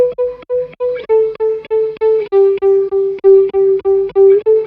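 A plucked guitar line repeats in even, pulsing notes with a subtle swirling, sweeping shimmer from a Safari Pedals Hawk Phaser, loud and upfront with no voices.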